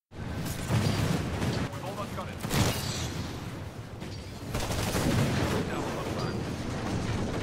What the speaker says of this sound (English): while holding ADS, I throw my grenade, which will go exactly where I'm aiming